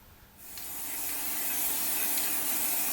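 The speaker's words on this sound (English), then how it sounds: "I use the Tamiya Fine White primer and try and avoid overspraying" An aerosol can of Tamiya Fine White primer bursts into a steady, close hiss while spraying a die-cast Dinky toy Bedford van, and the hiss holds continuously to the end.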